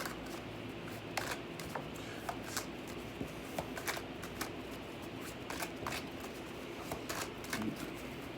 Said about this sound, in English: Let me shuffle the cards up a little bit.